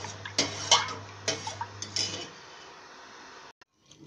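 A spoon stirs milk heating in a pan on the stove, scraping and clinking against the metal in a few close, irregular strokes before the sound drops away into near silence.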